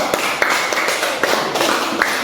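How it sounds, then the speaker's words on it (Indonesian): Students clapping in a classroom after a group presentation, a short run of scattered, sharp, close claps that are loud and uneven, with little talk. "tepuk tangan untuk kelompok 1"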